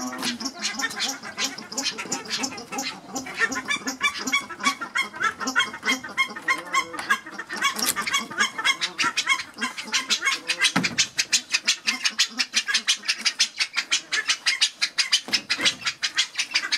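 Nene geese and ducks in an aviary honk and call over and over, a dense, close chorus of overlapping calls that grows busier and more rhythmic toward the end.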